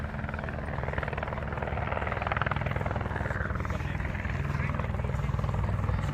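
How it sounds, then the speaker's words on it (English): Helicopter landing at a county fair event, its steady rotor thump and engine drone loud and continuous throughout, with voices faintly audible beneath. "We're going to land this helicopter."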